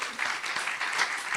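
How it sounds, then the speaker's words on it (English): A church meeting audience applauds in a brief, dense burst of hand clapping, steady and moderately loud throughout. "Or clap until they get here."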